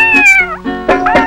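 A human voice imitates a cat in a Malayalam comedy song, giving a few loud, drawn-out, wavering meows close up.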